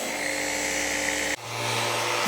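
A power sander whines steadily while sanding old lacquer off an Opel Zafira headlight lens, then briefly cuts and restarts at a lower pitch, its grinding buzz continuous and close.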